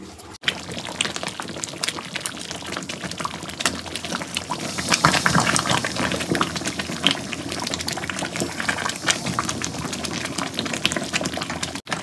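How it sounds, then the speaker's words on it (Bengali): Raw green mango pickle bubbling as it boils in a pot, a steady dense wash of bubbling and liquid churning that swells midway and runs continuously close by without talk. "জাস্ট দেখো কিভাবে টকবক করে ফুটছে আমটা"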